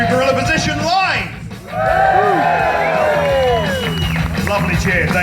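A live audience at a show in the Indigo venue cheers, whoops and claps loudly, a sustained crowd roar that dips briefly and then swells again, close and dense throughout.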